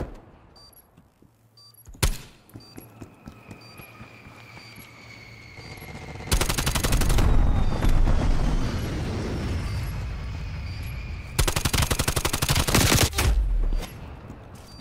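Automatic gunfire in a Call of Duty Black Ops Cold War multiplayer match: a sharp single shot, then two long, loud rattling bursts of rapid fire separated by a short lull, with no talk.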